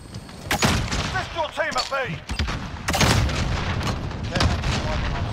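In a Call of Duty Modern Warfare multiplayer match, a grenade blast and bursts of gunfire boom and crackle through constant battle noise, under a voice callout from the game.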